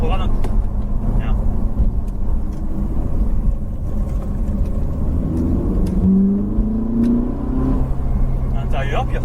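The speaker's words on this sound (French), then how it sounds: "Et frein. Et rétrograde un coup." A Ferrari on a race track brakes and downshifts, its engine note dropping and blipping in loud, rumbling waves while an instructor talks over it.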